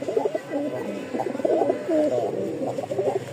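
A yellow Rajshahi stone-eyed pigeon coos close up in a series of soft, repeated throaty calls that rise and fall over a quiet background, with no talking.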